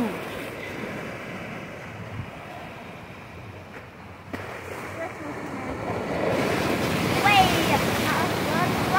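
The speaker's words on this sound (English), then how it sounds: "Because of the massive waves." Massive sea waves surging and crashing along the shore at Scarborough's north side, a continuous broad roar with gusty wind buffeting the microphone that swells louder toward the end, with a brief voice near the close.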